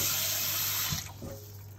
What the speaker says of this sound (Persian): خب من اینو پاستا رو آبکش میکنم و آب سرد رو روش میگیریم